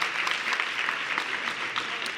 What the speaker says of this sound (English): let's give a big round of applause to our panel